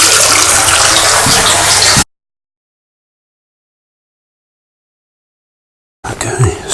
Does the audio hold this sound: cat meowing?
no